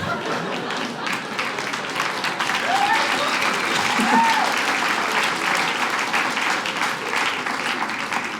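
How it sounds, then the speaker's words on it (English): An audience at a stand-up comedy special bursts into sustained applause, a dense steady wash of many hands clapping throughout, with a few whoops rising above it. "Yeah, you better applaud."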